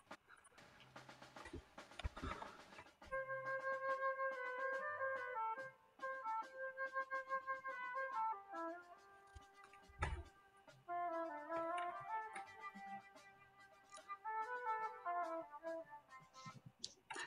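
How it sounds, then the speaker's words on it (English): Ravel's Boléro plays as a recording, a sustained melodic line with steady tonal notes over a soft rhythmic pulse, moderately quiet with short gaps between phrases. "which is Boléro, which sounds more or less like this."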